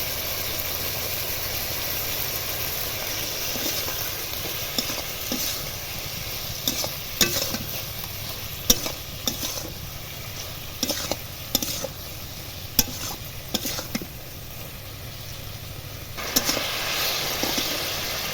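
Sliced ridge gourd with salt and turmeric fries in a pan under a continuous soft sizzle, punctuated by intermittent knocks and scrapes of a spatula stirring, close and with no voices.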